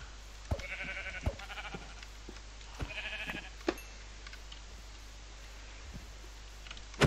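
Sheep bleating in Minecraft, a few short wavering bleats spaced apart over a quiet background, with scattered clicks and taps between them.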